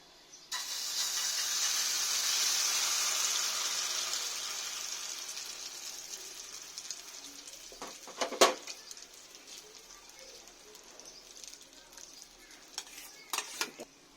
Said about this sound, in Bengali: তেলটা গরম হয়ে গেছে। এবার যে আমি ব্যাটারটা বানিয়েছিলাম ওটা আমি মধ্যে ঢেলে দেব